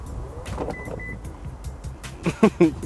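An electric tailgate motor on a Toyota Land Cruiser GR Sport 3.3 twin-turbo diesel whirs as the boot opens or closes, a soft steady mechanical hum ending in a couple of louder clunks as it latches.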